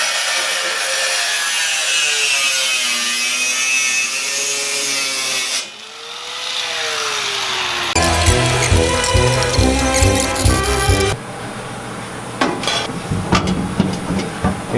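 A saw trims the sheet-metal floor pan of a VW Bug with the body still on, a steady rasping cut that turns to harsher, choppy strokes and clanks near the end, loud and close.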